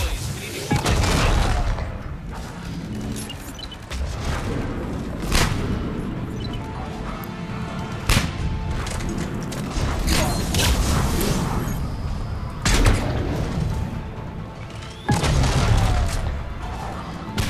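Frag grenade explosions and gunfire in the Mass Effect 3 video game, with a series of heavy booms and crashes at intervals over rattling combat noise, and a voice talking at times.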